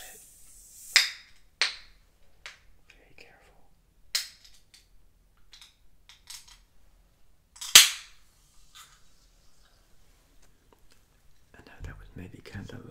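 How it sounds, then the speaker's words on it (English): Sharp crack and fizzing hiss of a can of La Croix orange sparkling water being opened close up, with several smaller clicks and taps before and a faint rustle after. "just opening the can"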